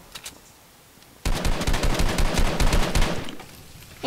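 Rapid automatic gunfire in the Fortnite video game, a dense burst of shots fired at a gas can, starting abruptly after a quiet moment and continuing loudly for nearly three seconds.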